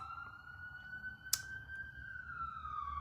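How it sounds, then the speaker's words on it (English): An ambulance siren wails outside with a steady rising and falling tone at moderate distance, and a single sharp snap or click cuts in partway through. "I'm thinking that's an ambulance."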